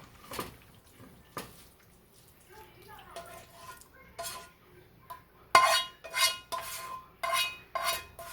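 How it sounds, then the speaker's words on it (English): A spoon scrapes and clinks against a dish as taco pasta casserole is scooped into a baking dish, irregular knocks with a run of louder, rhythmic scoops toward the end. "And now put it into the baking dish."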